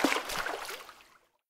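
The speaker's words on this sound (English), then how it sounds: "Splashes." A single burst of water splashing, bright and close, that churns briefly and then fades away to silence.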